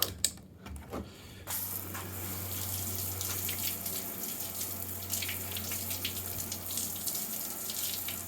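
Steady water spray from a shower-style nozzle rinses a car's body panel during spray wax testing, a continuous hiss starting after a brief pause and running on evenly with no talk.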